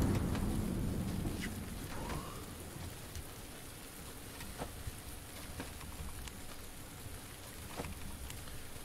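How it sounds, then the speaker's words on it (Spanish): Steady rain falling on a surface, with scattered droplet taps over a continuous hiss, heaviest at the start and then settling to an even patter. "Acá está lloviendo hace temprano"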